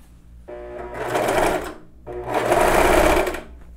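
A sewing machine stitches the armholes and neckline of a gym top in two loud, close bursts of rapid whirring, with a short pause between them and no talk.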